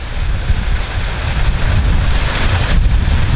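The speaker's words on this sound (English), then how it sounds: "And it's windy again." Wind gusting around a mountain homestead building under construction, a steady broadband rush that swells slightly toward the end, with no talking.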